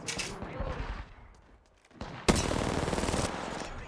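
Gunfire erupts in Apex Legends: scattered shots early on, a lull, then a loud sudden burst of rapid automatic fire that runs continuously for about a second with game voice lines mixed in.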